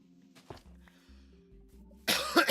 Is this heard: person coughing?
yes